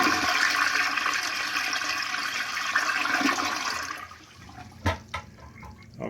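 A Kohler toilet flushes with a loud rushing swirl of water for about four seconds, then drops to quiet gurgles and a few sharp knocks.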